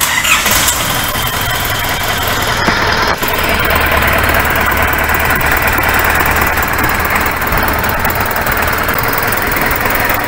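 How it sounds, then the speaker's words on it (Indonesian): A 3000 cc Isuzu D-Max 4JJ diesel engine fitted with a Panther injection pump idles loudly and steadily up close, with a continuous rough clatter and no talking. "Mesinnya halus, langsamnya bagus."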